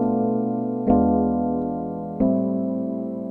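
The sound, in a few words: minor 2-5-1 jazz chord progression played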